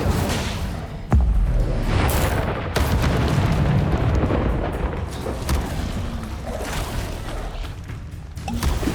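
Booming fire-spell blasts from the Hogwarts Legacy video game, a sharp loud burst near the start followed by sustained rumbling whooshes and crackling impacts that carry on throughout.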